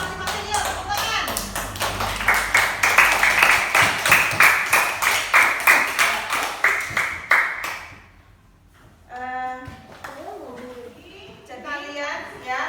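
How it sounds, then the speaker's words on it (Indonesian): Students in a classroom clap together in a steady, rhythmic beat, loud and close, for several seconds, then stop abruptly; a teacher's voice follows in a quieter room. "kita tepuk tangan untuk hasil diskusi masing-masing"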